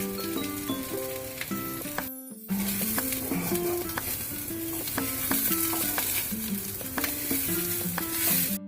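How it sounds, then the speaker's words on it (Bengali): Rice stirred and fried in ghee in a pan, a steady close sizzle with scraping stirs, running alongside soft background music notes throughout. "এখন হচ্ছে এই পর্যায়ে চালটাকে ভালো করে এই ঘিতে ভাজতে হবে।"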